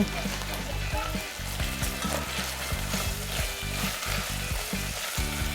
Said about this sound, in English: Continue stir frying until everything is very well combined.